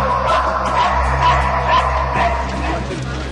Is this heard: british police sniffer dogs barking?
yes